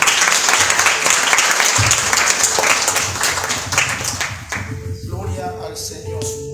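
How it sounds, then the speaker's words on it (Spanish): A church congregation breaks into loud, dense applause that gradually thins and softens toward the end, with voices emerging as the clapping fades. "Un aplauso a Jesucristo."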